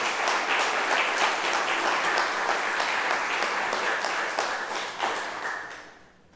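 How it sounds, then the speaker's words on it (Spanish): A church congregation applauding loudly, with dense sustained clapping from many hands that fades out at the end. "Démosle el aplauso duro, grande."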